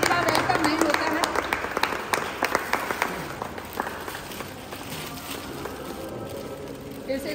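A crowd claps to welcome a team at a grandson's birthday celebration in Bakner village, with dense clapping at first that gradually thins out while someone talks over it.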